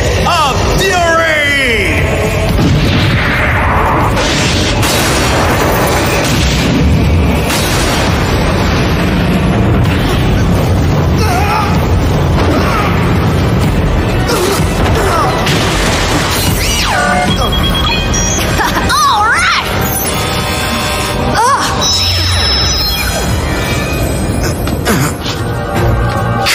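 Explosive booms and crashes from Obelisk the Tormentor's Fist of Fury attack in a Yu-Gi-Oh! duel, loud and continuous over a dense, roaring soundtrack, with a voice shouting over the impacts.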